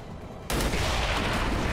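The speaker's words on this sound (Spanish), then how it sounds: "¡Explota!" An explosion in XCOM 2 erupts suddenly after a quiet lead-in, a loud, sustained blast with crackling rumble that holds to the end.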